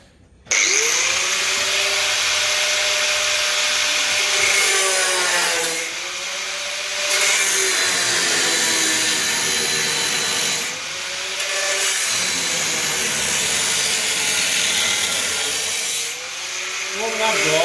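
A grinder works on the body of a Bedford CA panel van, screeching loudly in several long passes broken by short pauses as the disc comes off the metal, with a voice heard faintly at times.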